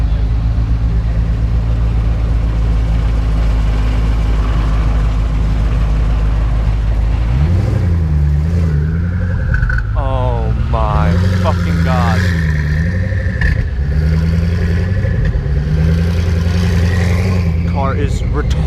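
A Ferrari LaFerrari hypercar's engine revs loud and close in sharp rising bursts, climbing over a steady low idle rumble, with people talking excitedly nearby.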